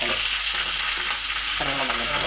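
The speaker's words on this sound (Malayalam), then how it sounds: "അപ്പോൾ ഉള്ളി ഇട്ട് കൊടുക്കാം." Onion, chilli and curry leaves fry in hot oil in a pan, a loud close sizzle with a few stirring knocks and scrapes over a steady hiss.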